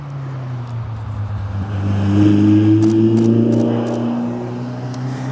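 Racing cars on a motor racing track approach and pass at moderate speed, engine drone rising to a peak midway and then fading away, with steady tonal whine and a few faint clicks.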